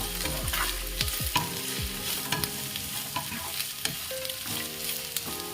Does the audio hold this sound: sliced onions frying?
yes